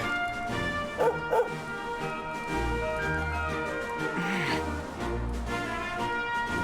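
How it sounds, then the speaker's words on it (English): A small dog barks twice in quick succession in the video game Dragon Quest XI S, the yips clear and close over sustained game background music, followed by softer whimpering. "Sandy, you glorious little dog"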